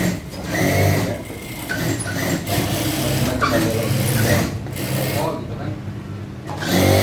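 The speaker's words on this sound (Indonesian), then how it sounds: "Ini teman-teman yang lagi kerja ini lagi proses jahit semua." Several sewing machines stitch t-shirts in a busy garment workshop, a steady close mechanical whirring and rattling with bursts that start and stop, while someone talks over the noise.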